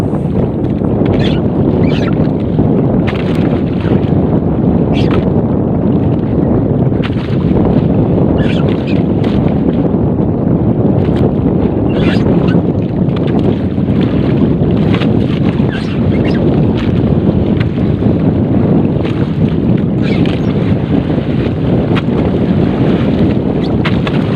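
Steady wind roar and sloshing sea waves against a fishing boat hull, continuous and loud throughout, with occasional sharper splashes and knocks.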